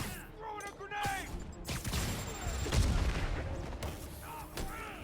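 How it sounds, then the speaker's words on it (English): An explosion from a thrown grenade in the Marvel's Spider-Man Remastered video game, with a deep boom and debris near the middle over a busy mix of game gunfire, effects and voices. "Throwing a grenade."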